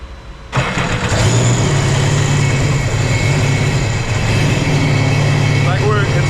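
The RXP engine on Project Revive fires up after a new fuel pump and runs roughly with a nasty misfire, loud and close, as people talk over it.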